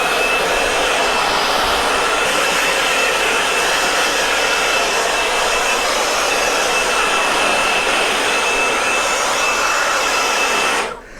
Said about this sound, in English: I'm gonna try to use the shop vac here to blow it off.